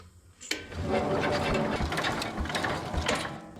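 Starter cranking the engine of a 1968 Jacobsen Super Chief garden tractor, a loud mechanical churning that kicks in abruptly and grinds on steadily with rhythmic pulses, no voices.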